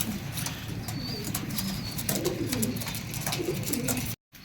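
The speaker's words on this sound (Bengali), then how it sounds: "শুরুতে আমরা যে পেয়ারটা রাখছি এটা হলো মহিষুরিটি কবুতর" A pair of Mahisuri pigeons coo softly and repeatedly at close range, with low, throaty murmuring calls and faint rustling. The sound cuts out briefly just before the end.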